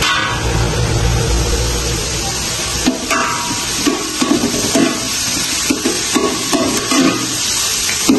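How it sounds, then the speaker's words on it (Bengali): Onion is stirred in hot oil and ghee in a pan, with a steady close sizzle and scraping strokes of the spoon that grow more irregular and clattery partway through. No one speaks. "পেঁয়াজটাকে নাড়া দিচ্ছে যে পেঁয়াজটা একটু বাদামি কালার হবে।"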